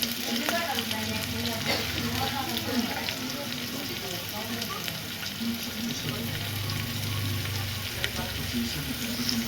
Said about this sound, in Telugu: ఆనియన్స్ వేసాం ఫ్రెండ్స్. ఆనియన్స్ వేగాలి కొంచెం.